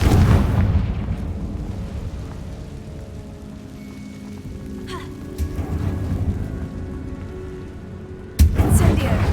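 In Hogwarts Legacy, a Confringo spell blast erupts near the end as a loud, sudden broadband burst, following a quieter stretch of ambient rumble with faint scattered sounds.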